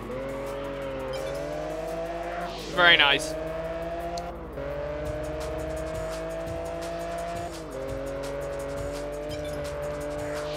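Car in the PS2 racing game Test Drive Unlimited accelerating hard off the line, a rising engine drone with a brief sharp tire squeal, under a speaking voice.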